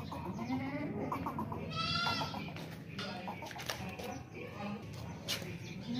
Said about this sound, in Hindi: काफ़ी ज़बरदस्त बकरी है माशाल्लाह से, बच्चे वाली बकरी है।